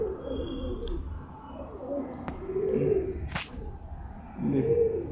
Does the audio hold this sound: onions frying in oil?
no